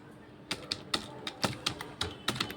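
Keys on a computer keyboard clatter in short, uneven bursts of clicks, close and fairly soft, with no talking.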